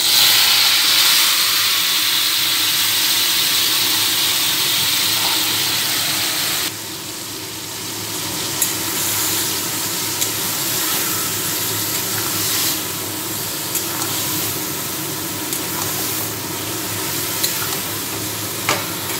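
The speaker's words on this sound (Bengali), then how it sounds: "এবার এই ম্যারিনেটেড চিকেনটা দিয়ে দেবো।" Marinated chicken fries in a pan with a loud, steady hiss and sizzle, stirred now and then with soft scraping clicks. The sizzle drops slightly partway through and carries on evenly.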